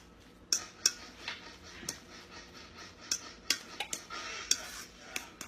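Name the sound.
mixing shredded mozzarella and Parmesan cheese in a bowl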